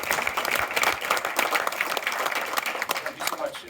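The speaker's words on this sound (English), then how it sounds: "Let's give him a round of applause." An audience at a talk on bioelectricity claps in a steady patter of close hand claps that runs the whole time, with speech mixed in.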